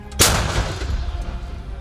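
A single loud, sharp artillery blast cracks out near the start from a gun firing near Bakhmut, then a rumbling echo trails away slowly.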